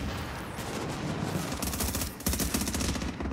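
Dense automatic gunfire rattles in a shooter video game, rapid bursts of overlapping shots firing continuously and loudly, intensifying into sharper volleys in the second half.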